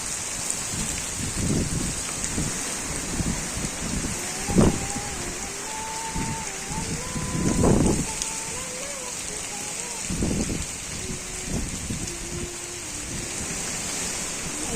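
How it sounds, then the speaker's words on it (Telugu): Heavy rain pours with a constant hiss as wind bends oil palm trees, broken by a few louder gusting swells, while a voice is faintly heard in the middle. "చూడండి అవో అది ఎట్లా వాన కొడుతుంది ఫ్రెండ్స్"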